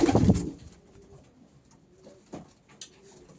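Homing pigeons back from their first flight coo softly in a loft, with a loud rustling burst at the start followed by quiet intermittent coos and small knocks.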